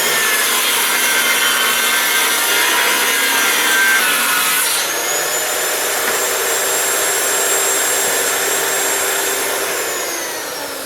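A saw cuts through a length of old wooden baseboard pulled from a laundry room, its bottom edge spotted with mold. A loud, close, continuous grinding buzz runs throughout and shifts to a smoother, higher whine about halfway through.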